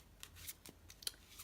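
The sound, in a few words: Hindu shuffle of a deck of playing cards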